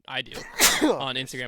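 A single sharp sneeze bursts out in the middle of casual conversation, close and loud, with people talking just before and after it.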